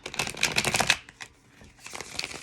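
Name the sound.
shuffling tarot cards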